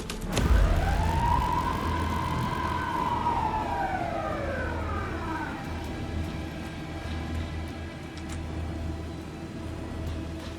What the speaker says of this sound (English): A police car?